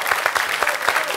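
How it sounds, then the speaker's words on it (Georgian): Studio audience applause on a Georgian television comedy show, a dense burst of clapping that stays steady and loud throughout the short stretch. "აპლოდისმენტები მეგობრებო"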